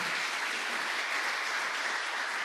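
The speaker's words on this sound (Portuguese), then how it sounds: "Vamos aplaudir Jesus pela vida do Elton, Senhor." A church congregation applauding, a dense continuous wash of clapping that sounds moderately distant and even, with no voices standing out.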